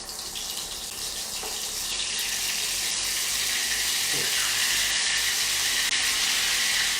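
Potato patties (bergedil) fry in hot oil, giving a loud, steady broadband sizzle that swells slightly as it settles, with a couple of soft clinks and no talking.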